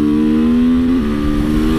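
A KTM 450SM supermoto with an aluminium frame revs hard, its single-cylinder engine note loud and close as it rises steadily in pitch for about a second, then drops and settles into a sustained drone.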